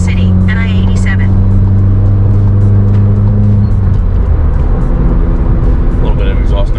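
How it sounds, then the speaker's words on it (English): A car's exhaust note drones steadily while cruising on a highway, a low, constant engine rumble with road noise, heard from inside the vehicle, easing slightly partway through. "A little bit of exhaust note for you."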